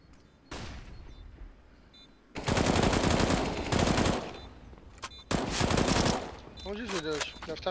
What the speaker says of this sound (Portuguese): Vou atirar com crouch.